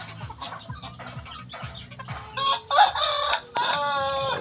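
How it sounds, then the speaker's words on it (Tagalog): Two shamo roosters square off, giving low rhythmic clucks and grunts that build into loud, close crowing and squawking calls. "Manok guys oh. Dalawang tandang."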